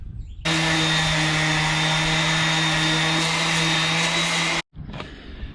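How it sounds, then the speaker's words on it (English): A power sander grinds steadily and loudly against a fiberglass boat hull where an opening is being enlarged for a 2-inch through-hull fitting, then cuts out abruptly before a short restart. "as soon as I started sanding it, it chipped some fiberglass out"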